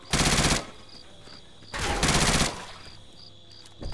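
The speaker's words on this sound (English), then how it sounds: "I love that you can shoot through through wood fences." Two long bursts of rapid automatic gunfire in the video game Left 4 Dead 2, each lasting under a second, loud and close, with a quieter game background between them and a third burst beginning at the end.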